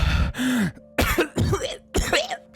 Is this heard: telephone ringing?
no